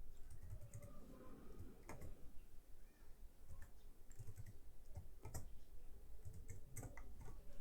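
Keys tapped on a computer keyboard while a list name is entered, quiet clicking in irregular bursts with short pauses between them, close and faint.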